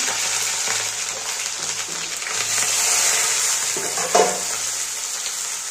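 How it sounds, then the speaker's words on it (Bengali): Onions and green chillies frying in hot oil, a continuous bright sizzle with occasional stirring scrapes and a brief louder pop near the end, close and steady with no voices. "এবার আমি পেঁয়াজ আর কাঁচা লঙ্কাগুলো ভেজে নেব"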